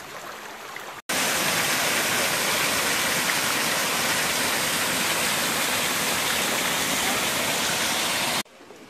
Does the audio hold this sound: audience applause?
no